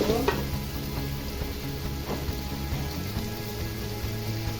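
Salted masala for Old Dhaka-style beef tehari sizzles and crackles steadily in a pan while being stir-fried, a constant close frying hiss with faint scraping of stirring, no voices.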